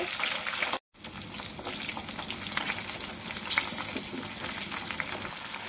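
Garlic, cumin and chopped green chillies frying in hot oil in a pan, a loud dense steady sizzle with crackling pops throughout, close up, briefly cut to silence near the start, no talk.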